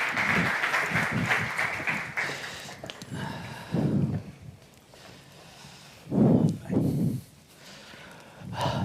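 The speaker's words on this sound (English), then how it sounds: "A round of applause for all of them." Audience applause for panel speakers at an executive talent forum on the semiconductor industry: a broad, steady patter of clapping that fills the room for about three seconds, then fades, with a few louder bursts of noise afterward.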